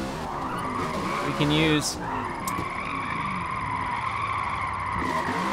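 Tires squeal and skid in a sustained screech as a car drifts with handbrake grabs in Forza Motorsport, the engine droning underneath while someone talks over it.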